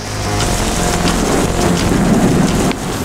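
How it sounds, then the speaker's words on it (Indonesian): Heavy rain and strong wind sweep through a city in a storm, a loud, dense wash of rain noise with low rumbling underneath, steady across the moment and dropping slightly near the end. "Angin kencang semakin liar, hujan deras tak kenal ampun menyapu kota."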